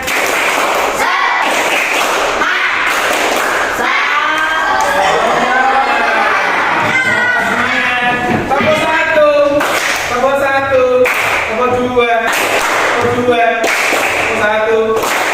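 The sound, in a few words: group doing a rhythmic spirit clap (tepuk semangat)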